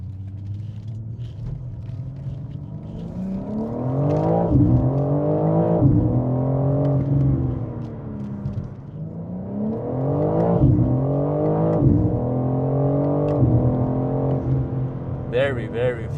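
A black 2024 BMW M4 Competition pulls hard through the gears, its engine note climbing in pitch and dropping at each shift across two strong acceleration runs, loud and close with a rising roar.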